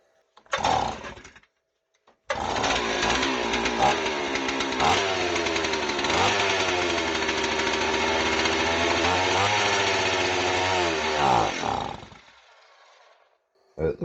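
A Stihl 038AV chainsaw, freshly carburetor-adjusted during a rehab with new fuel line, gives a brief rev, then runs loud and steady for about ten seconds with a buzzing two-stroke drone and small throttle wobbles before cutting off.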